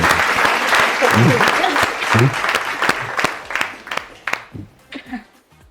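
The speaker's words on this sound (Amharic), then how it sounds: "አጨብጭቡለት።" A studio audience at an Eid holiday cooking show bursts into sustained applause, dense clapping that thins out toward the end, with some voices mixed in.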